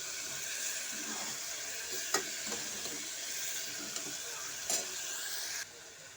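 Vegetables and sprouts frying in oil with salt in a pan, stirred steadily: a continuous close sizzle with scattered spoon scrapes and knocks against the pan, no talk.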